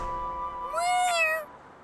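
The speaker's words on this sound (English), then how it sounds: "Oh, it's a cat!" A cat gives one drawn-out meow in an animated children's show about little buses, rising and then falling, close and clear with no talking over it.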